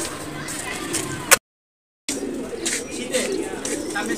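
Pigeons cooing in a loft as the female birds are fed after the males, soft repeated coos close by under ongoing talk, broken by a short silent gap.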